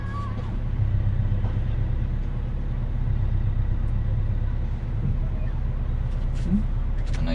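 A car reversing slowly into a parking bay during a UK driving lesson, a steady low engine rumble heard from inside the cabin, even and unbroken throughout.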